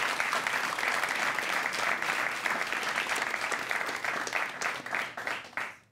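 An audience at a live quiz show gives a sustained round of applause, dense and even throughout, then it fades out at the end.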